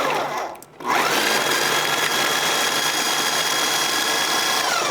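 A RoboCoupe food processor mincing garlic in a kitchen, its motor starting abruptly and whirring at a steady, loud, even pitch for several seconds without a break.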